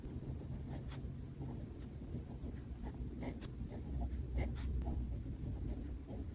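A Montblanc 149 fountain pen with a curved calligraphy nib, inked with Diamine Earl Grey, scratches softly across paper in a series of close, faint strokes with small sharp ticks between them.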